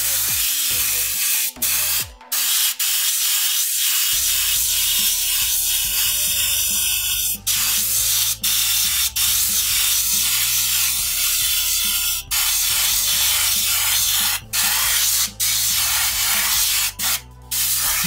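Airbrush spraying paint onto a t-shirt, a loud continuous hiss running almost nonstop with brief cut-offs as the trigger is released, no voices.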